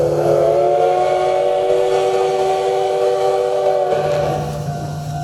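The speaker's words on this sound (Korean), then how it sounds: "기차의 기적소리와 함께" A train whistle sounds at a memorial event for the writer Kim Yu-jeong, holding one long, steady, loud blast for several seconds before it fades slightly at the end.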